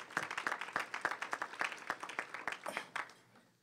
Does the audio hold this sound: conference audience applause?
yes